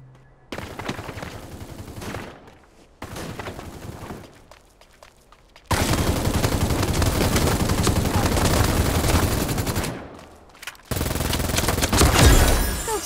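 Gunfire in the Super Mecha Champions video game: loud bursts of rapid shots in several separate stretches with short quiet gaps, the longest sustained volley in the middle and a heavier burst near the end.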